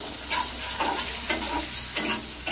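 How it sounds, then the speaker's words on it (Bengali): Paneer frying in white oil in a kadai, a steady close sizzle with periodic scraping bursts of stirring, no voices. "লাল করে পনিরগুলো আমার ভাজা হয়ে গেছে,"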